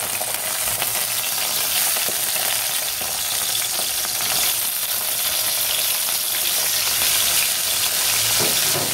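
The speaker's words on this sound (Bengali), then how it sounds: "বেগুনগুলো খুব ভালো করে লাল লাল করে আগে আমি ভেজে নেব।" Eggplant slices fry in hot mustard oil in a pan, giving a loud, dense, continuous crackling sizzle heard close up with no talk.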